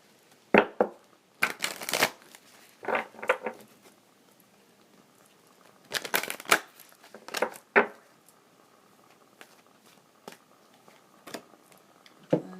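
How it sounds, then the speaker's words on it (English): Oracle cards being shuffled and pulled from a deck, a series of quick riffling, flapping bursts in irregular clusters with quiet pauses between, close and alone with no talking. "I'm going to pull a card from each for this upcoming week"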